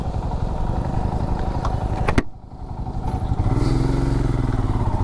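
A motorcycle idles close by in stalled traffic on a ghat section road, its engine chugging steadily, dipping briefly partway through, then settling back into a steady low idle.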